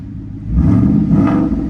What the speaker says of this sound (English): let's give it a little rev, see how she sounds